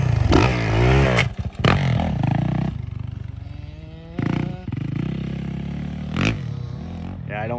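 A motorcycle ridden in snow in March, its engine revving loud and close with a few drops and surges in throttle, while people talk nearby.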